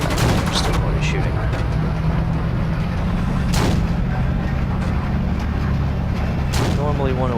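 Gunfire and booming artillery from the WWII Online battle game, a dense continuous rumble with a few sharper distant shots breaking through, while someone talks over it.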